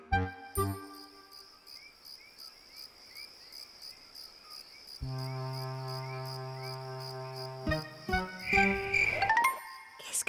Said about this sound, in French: Ce sont les grillons, murmura Miffy. Ils chantent toujours la nuit.